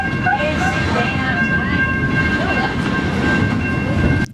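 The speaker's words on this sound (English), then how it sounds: "after 45 minutes on board RM22, we're now arriving back at Healesville train station" Heritage railmotor RM22 on the Yarra Valley Railway rolls along the rails near Healesville with a steady rumbling clatter and a faint squealing tone, continuous and close, with people talking quietly on board.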